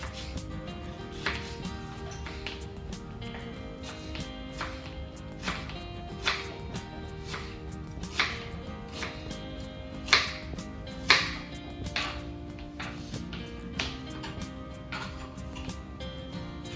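Onions cut into pieces of varying size with a knife on a board, producing quiet, irregular chopping taps with a few sharper knocks in the middle, faint and close with some background noise.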